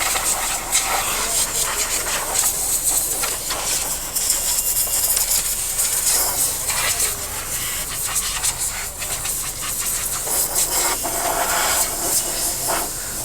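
Pressure water spray hitting a motorcycle at a bike wash, a loud continuous hissing rush with slight fluctuations as the jet moves, no talk.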